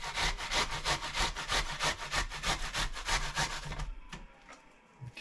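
Sweet onion rubbed against a hand grater for potato pancakes in an off-grid cabin kitchen, a rapid, even run of scraping strokes that stops abruptly, then a few light knocks.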